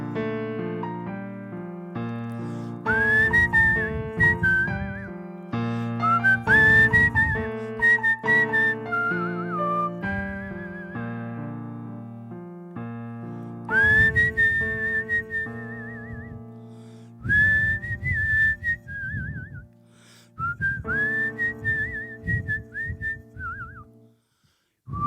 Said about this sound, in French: Bien ce petit final au sifflet.